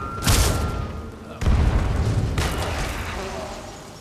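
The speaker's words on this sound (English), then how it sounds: "nuke the unlucky person wearing this armor set with the mod Atom Bomb" Two huge booming detonations from an atom bomb in a modded Skyrim video game, each a sudden loud blast followed by a long rolling, fading rumble, the second arriving about a second after the first.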